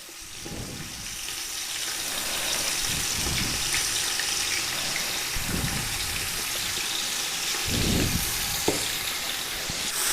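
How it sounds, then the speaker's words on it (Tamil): Half a kilo of onions fries in oil with whole spices for chicken biryani, giving a loud, continuous close sizzle. A few louder stirring or scraping bursts rise over it at intervals. "இப்போ இந்த வெங்காயம் வதக்கணும், நல்லா வதக்கணும்"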